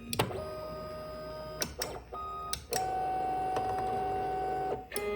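A Tina 2 3D printer runs its auto-leveling routine, its stepper motors whining in steady pitched tones that shift and stop in short bursts, close and moderately quiet.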